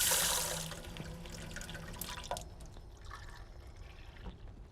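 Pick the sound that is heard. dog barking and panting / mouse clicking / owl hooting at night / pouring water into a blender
pouring water into a blender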